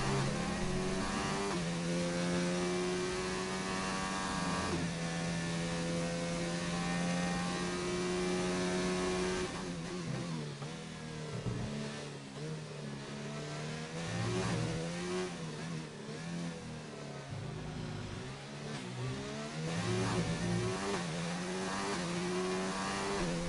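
An F1 car engine in a racing video game on a flying qualifying lap on soft tyres, a loud continuous high whine rising and falling through gear shifts and corners with no speech.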